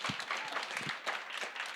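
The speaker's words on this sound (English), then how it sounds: "I just want to give a big clap, Jackie." Wedding reception guests clapping together, a scattered patter of hands in a room, fairly faint and uneven, with a few sharper individual claps standing out.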